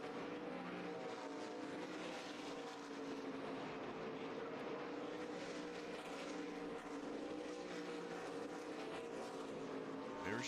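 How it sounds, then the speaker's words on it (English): ARCA West race cars lapping Kern Raceway while battling through traffic, a steady, layered engine roar of several cars sustained at moderate distance for the whole stretch. "Those cars all battling for position as they try to wind their way through some of this traffic."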